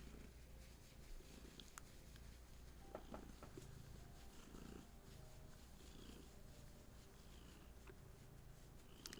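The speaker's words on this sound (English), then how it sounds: "You might hear a little gentle purr" A cat's soft, steady purr rumbles low and close, continuous and quiet, with faint small rustles in the background.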